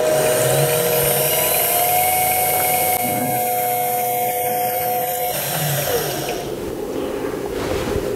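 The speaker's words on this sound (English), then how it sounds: "I'm going to drill the bore hole for the locking pin that will go through there" A power drill boring a hole in metal for a mini mill spindle lock whirs steadily and loudly, a sustained high whine running continuously, then easing off near the end.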